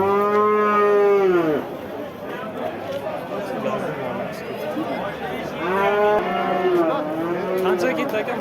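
Cattle at a livestock market in Kattaqo'rg'on give two loud, close moos, one at the start and another later, amid crowd chatter and voices talking.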